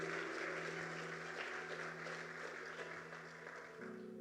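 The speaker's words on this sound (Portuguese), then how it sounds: "Pode aplaudir o Senhor." Church congregation applauding during a sermon, a steady dense wash of clapping that holds evenly throughout, with a sustained tone from an organ or keyboard underneath.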